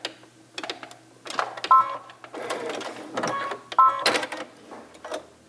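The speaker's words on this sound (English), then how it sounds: "Now I'm going to go back stitch a little bit." A sewing machine back stitches through cushion fabric in short bursts of rapid mechanical whirring and clatter, separated by brief pauses, close and moderately loud with no talk.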